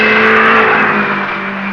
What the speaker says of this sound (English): Hindi and Haj in their Renault.